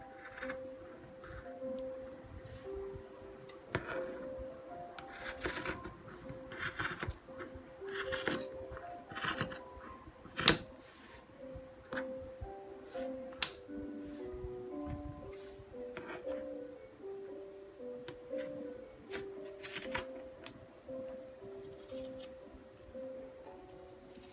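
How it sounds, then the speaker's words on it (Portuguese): Scissors cut velvet fabric around a marked shoe pattern, a quiet close series of irregular snips and crisp cuts with soft rustling of cloth between them. "Vamos lá fazer o corte só ao redor da nossa marcação."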